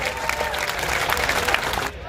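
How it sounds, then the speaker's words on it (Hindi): Applause from a crowd at an employees' protest gathering, a steady patter of clapping that holds for a couple of seconds before tapering off. "जोरदार तालियां"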